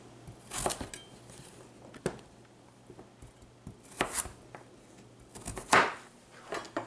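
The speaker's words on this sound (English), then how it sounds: "we'll just go back here and cut them like we want them" A knife cuts peeled potatoes on a cutting board, a handful of separate soft chops spread out with gaps between them, close but fairly quiet.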